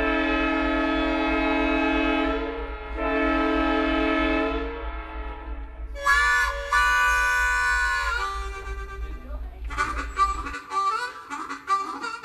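A White Pass and Yukon Route train sounds long, loud, sustained horn or whistle tones over a low rumbling drone, followed by shorter, higher blasts and then choppy bursts as the rumble drops away.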